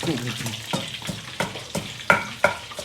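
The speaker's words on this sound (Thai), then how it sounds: "อันนี้เสียงดังเลยทอดปลา" Hot oil sizzling and crackling steadily as food fries, with sharp pops and spatters every fraction of a second, heard up close.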